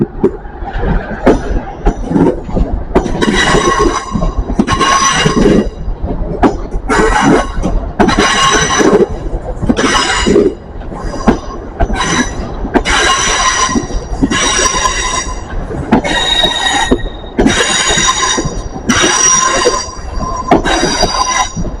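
A model railway train runs along its track, with rhythmic bursts of high metallic wheel squeal repeating over a continuous rolling rumble, close and fairly loud.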